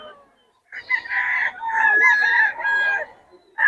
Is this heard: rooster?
yes